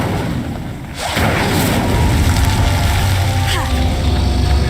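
Incendio fire spell cast in Hogwarts Legacy on PC, a sudden whooshing burst of flame about a second in that swells into a loud, roaring rumble sustained to the end.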